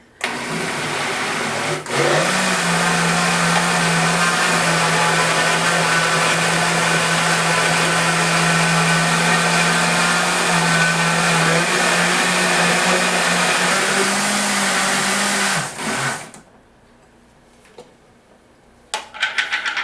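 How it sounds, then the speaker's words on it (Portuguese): A blender mixing pancake batter with its lid open whirs loudly and steadily for about fifteen seconds, its motor droning at a constant pitch before cutting off abruptly, leaving faint rattles. "consigo bater com o liquidificador aberto"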